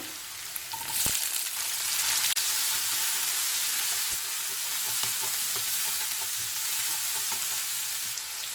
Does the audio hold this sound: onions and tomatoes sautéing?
yes